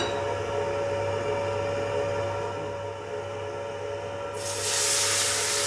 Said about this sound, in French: Et là on déglace au Porto.